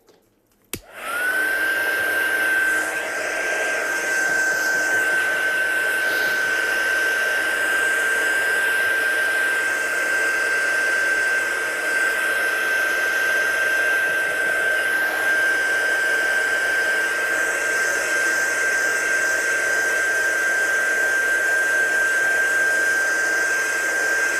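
A hair dryer switches on with a click and blows steadily to dry a watercolour greeting card, a loud close whooshing roar with a constant high whine that holds evenly throughout.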